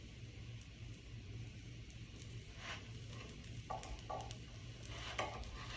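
Soft frying crackle and sizzle of a scallion pancake in oil in a pan, steady and quiet, with a few faint clinks and scrapes.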